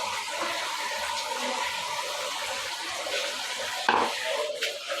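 Raw chicken is rinsed in water, heard as continuous close sloshing and splashing that swells at times, with a brief clatter near the end.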